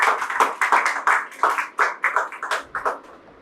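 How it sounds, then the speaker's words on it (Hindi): Rapid, slightly uneven hand clapping from a small studio audience on a talk-show set, a steady run of sharp claps lasting a few seconds, close and fairly loud with no speech over it. "बिल्कुल सही कहा, ज़ोरदार तालियां"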